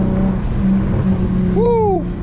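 A Genesis Coupe with a 3.8 V6 burbles steadily at low idle, then gives a quick rising and falling exhaust note near the end, loud and close, with no talking over it.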